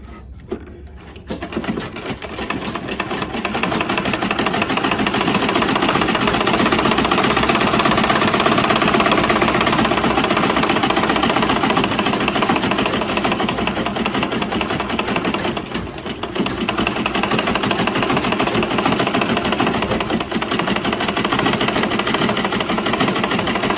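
Steady, loud whirring run of a sewing machine stitching Ankara fabric for a statement neckpiece, a continuous mechanical hum lasting most of the stretch with a brief dip near the middle and no talk.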